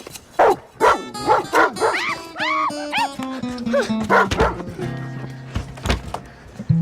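A dog named Moti, let loose during a Hindi film scene, gives a quick run of sharp yelping barks and whining cries, loud and close over a music score.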